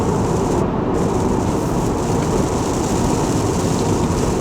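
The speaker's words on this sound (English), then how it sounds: "we're driving into a big cloud of rain here in Florida." Heavy Florida rain pounding steadily on a moving car, a dense continuous roar with no break, loud and close.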